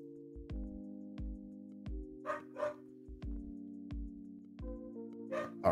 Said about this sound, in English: What are you barking at, dog?